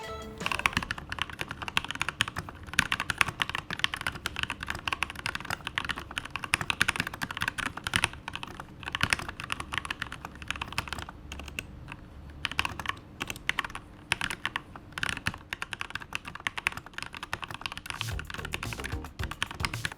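Typing on a keyboard with Gateron linear red switches: a continuous, fairly quick patter of close keystrokes with no talking.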